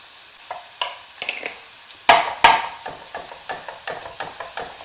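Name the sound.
ground beef sizzling while being crumbled and stirred in pan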